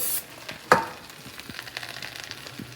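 A soft, continuous frying hiss as pepper is sautéed in a hot pan, with one sharper pop near the start and light crackling throughout, close by, without talk.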